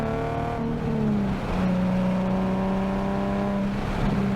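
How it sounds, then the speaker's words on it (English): A bolt-on Nissan 370Z engine on a race track, holding a steady loud drone with a brief dip and pitch drop near the start, then sustained revs rising gradually, close and continuous with no talk. "this car sounds just absolutely amazing on track"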